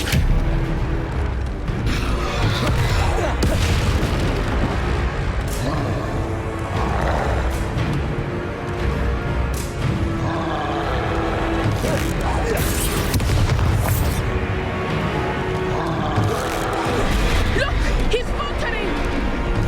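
In the Hogwarts Legacy video game, the Expelliarmus spell is cast amid a dense, loud mix of booming impacts, whooshes and game effects, with voices speaking over the action.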